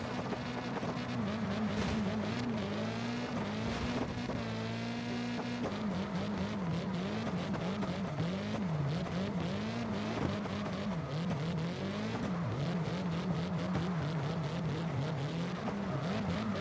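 High-revving Nissan VR38 engine screaming near 12,000 RPM in CarX Drift Racing Online, a continuous loud, shrill whine with wavering pitch as the throttle is worked, sustained for the whole stretch with no talking.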